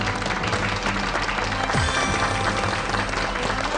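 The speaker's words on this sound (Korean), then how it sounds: "여러분 박수로 환영해 주십시오." Studio audience applause greets a guest on a Korean TV health talk show, a steady dense patter of clapping hands filling the room close and loud for several seconds.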